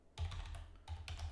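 A computer keyboard typed on in two short clusters of close clicks, entering a web address, separated by a brief pause, with no speech.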